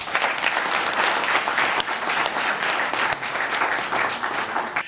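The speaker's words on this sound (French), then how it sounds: "Je sollicite donc de votre part de les applaudir." A large crowd at a Paris ceremony celebrating 70 years of the PDCI-RDA party applauds the pioneers and women, dense continuous clapping that stays loud and even throughout with a few sharper individual claps standing out.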